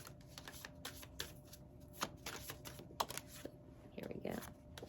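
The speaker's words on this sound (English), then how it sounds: "Let me do a quick shuffle." A set of rune stones is shuffled for a reading, giving faint, close clicks and rattles that come in small bursts over soft background noise.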